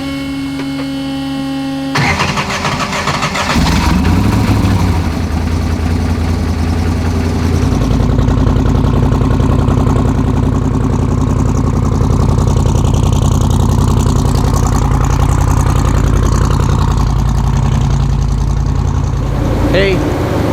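Drag race car engine cranking over and firing up, settling into a loud, lumpy, rumbling idle that runs steadily up close, with people talking underneath.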